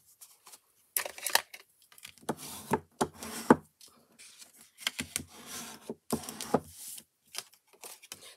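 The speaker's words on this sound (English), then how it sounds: "I am also going to give this a good burnishing." Paper card being burnished by hand, heard up close as short bursts of dry rubbing and scraping strokes separated by brief pauses, quiet and alone.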